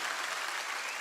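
Rally crowd applauding for veterans: a dense, steady wash of clapping from a large audience, moderately loud and brief, with no talking over it.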